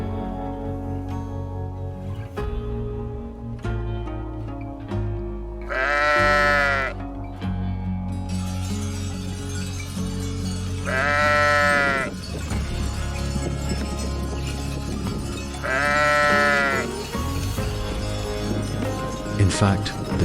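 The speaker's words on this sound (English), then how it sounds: "their laws, and their sheep." Sheep bleating in the Faroe Islands, three long wavering bleats spaced several seconds apart, fairly close, over background music and narration.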